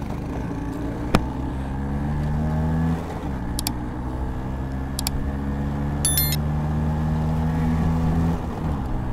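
A Royal Enfield Scram 411 motorcycle and a 1992 Bajaj Chetak scooter run a drag race, loud engine drone rising and holding in steady pitch sweeps, with an abrupt gear change partway and a few sharp clicks over the continuous roar.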